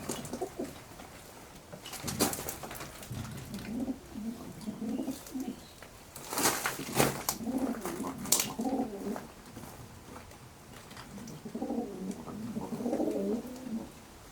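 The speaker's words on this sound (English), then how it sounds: "So they are pigeons" Pigeons coo inside an old, long-forgotten farm house, soft low cooing phrases repeating at intervals among rustling and a few sharp knocks and flutters, moderately close.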